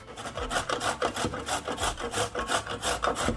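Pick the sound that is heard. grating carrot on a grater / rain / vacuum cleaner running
grating carrot on a grater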